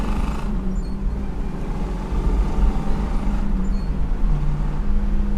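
A 1970 Pontiac Trans Am Ram Air III cruises along a twisty, bumpy road, its V8 giving a steady low rumble inside the cabin with a shift in engine note partway through.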